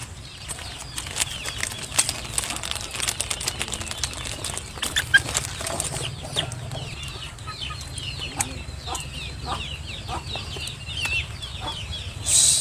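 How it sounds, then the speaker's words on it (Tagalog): Chickens clucking close by, a steady busy flock with scattered wing flaps and bursts of calls, continuous and fairly loud throughout. "Maraming manok na makukulit dito sa tabi ko."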